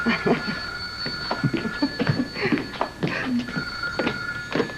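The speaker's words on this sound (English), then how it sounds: "Simon, you gotta let go of my hand or I won't be able to answer the phone" A telephone ringing indoors, a sustained electronic ring that repeats steadily throughout, with voices talking over it.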